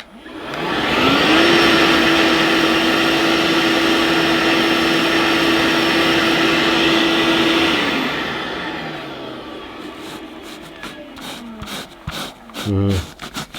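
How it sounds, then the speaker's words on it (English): A Vax OnePwr SpotlessGo cordless spot washer runs with a loud, steady motor whine and suction roar for about seven seconds, then shuts off, followed by scattered scrubbing and rubbing sounds on the fabric. "I'm going to switch the machine on, apply the solution, switch the machine off, agitate the solution, and then switch the machine back on again"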